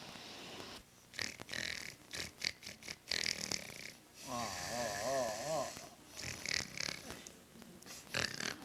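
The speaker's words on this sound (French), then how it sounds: "t'es obligé de ronfler comme un 4 moteurs" Loud, rough snoring in uneven bursts, with a long rattling snore in the middle and brief sounds between breaths.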